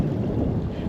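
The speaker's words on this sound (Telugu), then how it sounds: "చల్లగా గాలి కొడుతుంది" Cold wind gusts steadily across an exposed trail high on Ben Nevis, Scotland, a constant low rumble of wind buffeting the microphone for under a second, with no voices.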